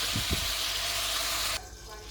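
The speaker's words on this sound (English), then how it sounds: "I'm going to fry them until they brown just a little bit" Chicken pieces sizzle and crackle steadily in shallow oil in a pan, a bright hiss that cuts off abruptly, leaving a quieter background.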